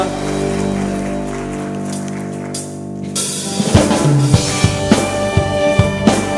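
A church congregation bursts into applause at Friday worship after a hymn fades out, the clapping loud and dense, with a few sharp louder claps over the crowd.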